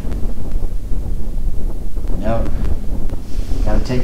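Strong wind, around 50 mph, gusting across a German links-style golf course, heard as a steady loud rush and buffeting against the microphone, with brief voices partly under the noise.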